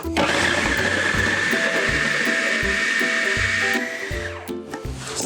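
Food processor pulsing butter into buttermilk biscuit dough: a loud steady whir of motor and blade runs for nearly four seconds, then drops in level with short rhythmic chopping bursts as the pulses continue, no talking.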